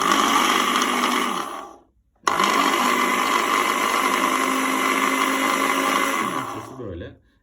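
A Philips smoothie mini blender motor roars loudly, stops briefly, then whirs again at steady high speed on its second setting before winding down.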